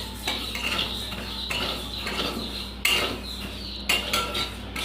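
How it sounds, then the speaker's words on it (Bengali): Mung dal dry-roasting in a pan, with scraping and clinking of a spatula against the metal as the lentils are stirred, several sharper knocks standing out over a steady hiss. "ডালটা ভেজে নেব"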